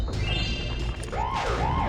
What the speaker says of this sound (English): I remember those like robots, they sound like freaking ambulances